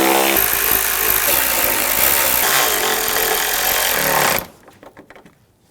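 Power tool tightening headlight fasteners on a 2006-2010 BMW 550i, a loud continuous buzzing whir for about four seconds that cuts off abruptly, leaving faint clicks and handling noise.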